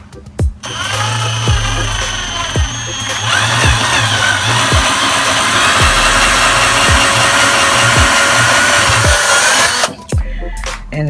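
A power drill bores a hole for a Dollar Tree candle sconce craft project, whirring steadily and loudly for about nine seconds, with regular faint clicks under the motor and a short stop-start at the beginning and end.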